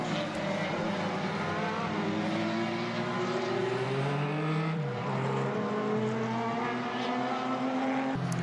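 Formula BOSS race cars lapping Mondello circuit in Ireland, with engine notes rising and falling as cars pass at a distance, one car passing closer midway, under faint commentary.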